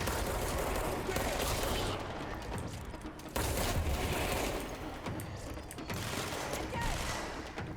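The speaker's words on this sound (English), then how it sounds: "Where are they shooting at?" Video game gunfire rattles in dense, sustained volleys with machine-gun bursts and occasional booms, loud and nearly unbroken, with speech-like sound mixed in.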